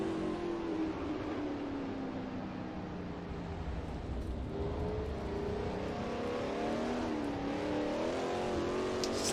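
Race car engine in a sim racing game, whining and shifting pitch as it brakes and accelerates around a corner, steady and fairly quiet throughout with no talk.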